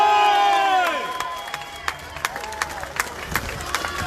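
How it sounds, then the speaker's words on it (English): A crowd at a speakers' event cheers and shouts loudly for a speaker, with whoops and scattered claps that fade into lingering cheers. "So let's have a big cheer for Mr. John Ledger."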